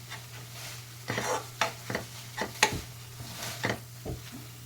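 Cooked red pumpkin with jaggery and ground fennel seed being stirred in a pan, a steady run of scraping, sticky stirring strokes at close range over a low background hum, with no talk.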